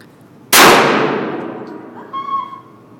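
A pistol shot strikes a metal target at an outdoor shooting range, giving a single sharp, loud clang that rings and decays over about two seconds, followed by a faint tonal ring-out.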